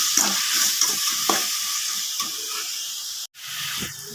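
Tomatoes with salt and a little turmeric sauté in a pan for a Tamil yam kara kuzhambu, a steady close sizzle broken by repeated stirring scrapes and a brief dip near the end.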